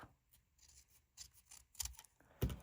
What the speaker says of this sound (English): So I had scissors here. I really did. Oh, right here. I'm going to cut it off.